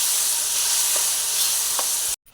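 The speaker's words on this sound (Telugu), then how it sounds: "ఇందులో వేసుకొని ఒక్క నిమిషం ఆ నూనెలో మంట పెట్టే సిమ్లో పెట్టి ఒకసారి తిప్పుకుంటే చాలా బాగుంటుందండి" Tomato pickle fries in hot oil on low flame while being stirred, a loud, steady sizzle with faint scraping, alone and cutting off abruptly at the end.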